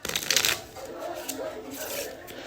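Playing cards are riffled and shuffled during a village card game, with a quick crisp flutter at the start followed by softer rubbing and sliding of the cards.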